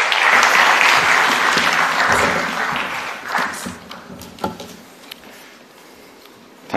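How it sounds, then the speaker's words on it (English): A summit audience applauds a speaker in a loud, dense burst of clapping that thins out over several seconds into scattered claps and a few thuds. "Ladies and gentlemen, could we put a huge round of applause, please, for Mr. Praveen Bhagwat."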